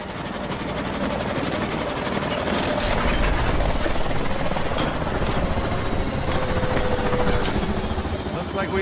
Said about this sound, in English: Mitchell! Catch the Warbird